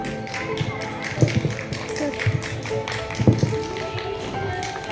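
An audience at a school annual prize distribution applauds a prize winner, a steady patter of many hands clapping at moderate volume with scattered louder claps.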